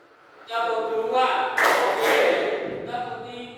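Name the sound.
rhythmic hand clapping pattern by class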